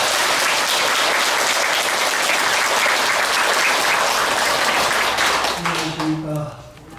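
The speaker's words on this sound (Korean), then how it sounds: "불자 여러분께서는 모두 큰 박수로 스님을 환영합니다." A large crowd at a Buddhist service applauds loudly and steadily to welcome a monk, the clapping thinning near the end as a voice begins to speak.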